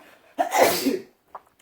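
A single loud, close sneeze with a sharp onset and a breathy tail during a burger cooking and eating session, followed by a brief faint sound.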